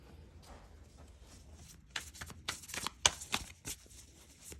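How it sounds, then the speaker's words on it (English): Tarot cards are shuffled by hand, starting as soft faint rustling and building into a run of sharper riffles and slaps in the second half, close and quiet with no voice. "So let's shuffle."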